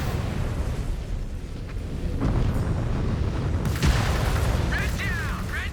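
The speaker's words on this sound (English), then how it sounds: "Incoming missile." A missile explodes amid the heavy, continuous rumble of mech combat in MechWarrior 5: Clans, with a sharp blast near the middle that swells over the din and crackling debris trailing off after.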